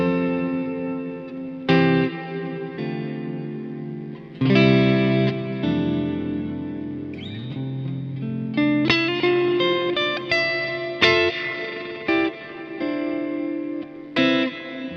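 An electric guitar runs through a Boss DD-500 digital delay pedal set to its Terra Echo mode. Separate plucked notes and chords ring out, each one trailed by smeared, modulated echo repeats. The sound is close and clear, with no talking.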